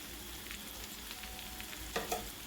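Chili powder hitting a pan of frying potato masala curry, a low steady sizzle with a couple of brief stirring scrapes near the end, faint and without talk.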